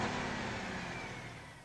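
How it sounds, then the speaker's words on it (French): A tractor engine in the Farming Simulator 2015 video game revs with a loud, steady mechanical roar that eases off slightly over under two seconds, with no talking. "un petit coup d'accélérateur pour arrêter le moteur"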